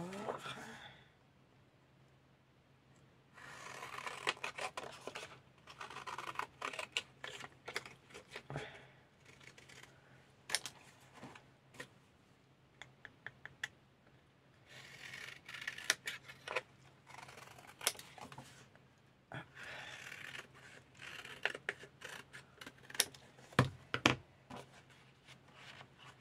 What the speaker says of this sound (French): Là par contre je vais la découper proprement